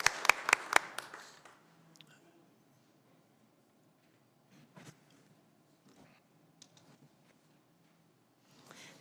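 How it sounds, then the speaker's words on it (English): A brief burst of clapping from a small group at a city council meeting, fading out quickly, followed by quiet room noise and a few scattered claps. "Yeah, they deserve a round of applause at least."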